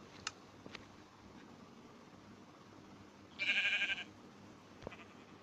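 A sheep in the video game Minecraft bleats once, a short wavering digital bleat over quiet background hiss, with a few faint clicks around it.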